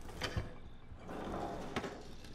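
Fridge door in the Resident Evil video game, a brief mechanical click and clunk followed by a soft hollow whoosh and another click, quiet with no speech.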